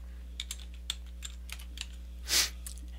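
Typing a file name on a computer keyboard gives a light, quiet patter of single keystrokes over a steady low electrical hum, ending with one slightly louder, longer press.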